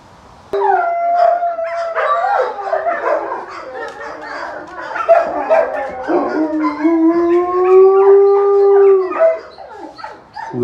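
A long, wavering wolf howl rises and holds close and loud, with other canine voices joining in a layered chorus.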